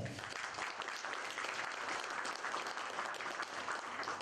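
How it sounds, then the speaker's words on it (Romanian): An audience applauds steadily for a graphic designer at a Romanian media event, a dense wash of many hands clapping that carries through at an even level from start to finish. "vă rog să-l aplaudați"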